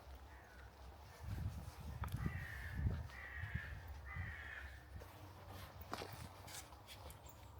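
Crows cawing in the trees overhead on a wooded castle estate in Scotland, three or four rough caws in a row over steady outdoor ambience, with a few scuffing sounds nearby.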